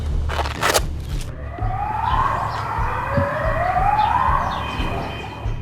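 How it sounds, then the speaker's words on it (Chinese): A wailing air raid siren rises and falls in slow sweeps at a distance in Israel, with a burst of close noise at the start. "空袭警报持续作响"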